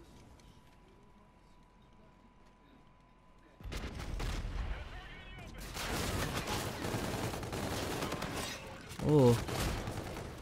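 Rapid submachine gun bursts in a video game fire in a loud, dense stretch through the second half, following a quiet opening, with a brief exclamation from a player.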